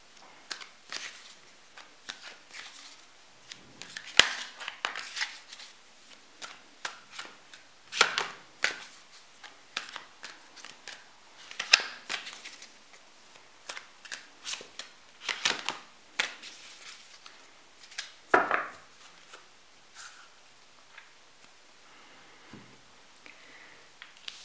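Oracle cards being shuffled by hand, heard as quiet, irregular crisp riffles and soft slaps in short bursts, close by and alone without talk.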